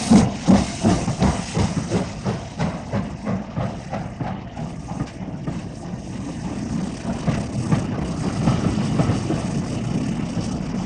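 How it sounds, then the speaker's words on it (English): A 2-6-2 steam tank locomotive working as station pilot while marshalling a parcels train. Rhythmic exhaust chuffs are loud at first, then ease into a steady hissing rumble. "this 262 tank, the station pilot, is marshalling a parcels train bound for Glasgow"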